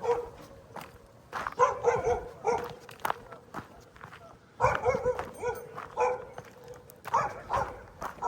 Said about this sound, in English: There's a dog up.